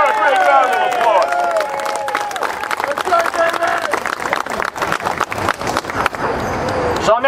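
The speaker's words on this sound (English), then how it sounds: "Let's give her a great round of applause." A crowd at an outdoor rally against illegal migration in New York applauds loudly and steadily, with scattered cheers and a speaker's voice heard over the clapping at the start.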